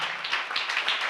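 Brief burst of congregation clapping at a church sermon, a close, bright patter of hands at moderate volume.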